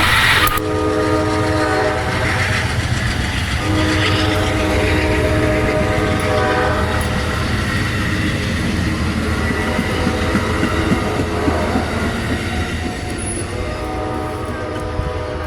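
A heavy CSX manifest freight train rumbles steadily past close by in Ashland, Virginia, a continuous loud roar of wheels and engine with rail clatter, and a horn sounds briefly near the start.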